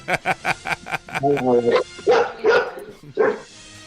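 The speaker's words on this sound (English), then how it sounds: "Sounds like your dog has more to say." A dog barks in a quick run of short, close barks, then a few longer, higher yelping barks follow with pauses between them.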